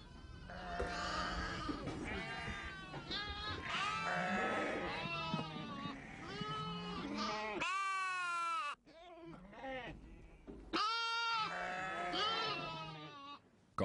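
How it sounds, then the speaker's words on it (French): Lambs and goats bleat repeatedly and loudly at close range, overlapping cries in a livestock herd, with a brief lull before the calls resume. "Quand tous les agneaux sont rassasiés, Ali et Hussein rentrent les bêtes."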